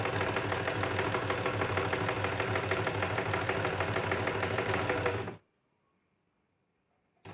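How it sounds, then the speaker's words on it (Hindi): An electric sewing machine stitches the front princess-cut panel of a blouse, running in one steady, even whir for about five seconds before stopping abruptly into silence. "वो इस प्रकार से नीचे से हम पहले सिलाई कर लेते हैं"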